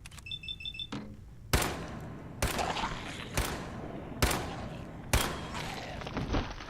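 Gunfire indoors in Fallout 4: five loud, booming single shots spaced about a second apart, each with a long echoing tail, preceded by a few short electronic beeps.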